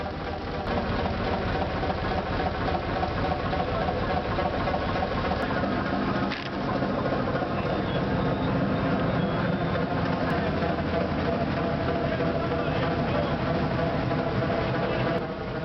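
A massive, rusty old Rumely OilPull tractor engine runs at a steady idle, its heavy flywheel spinning, producing a continuous mechanical drone with a brief dip midway before resuming evenly.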